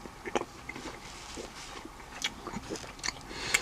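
A man chewing an Italian sub up close with wet lip smacking and soft bites, heard as a few irregular mouth clicks over a quiet background.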